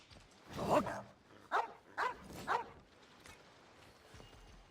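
Dogs barking in the game Genshin Impact, a few separate barks and yips in a short burst, moderately near, then quiet.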